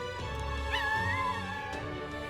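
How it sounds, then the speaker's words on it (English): A dog whimpering in the video game Metaphor: ReFantazio, a short, thin, high-pitched whine that rises and wavers for about a second over a continuous low game ambience. "She got a dog?"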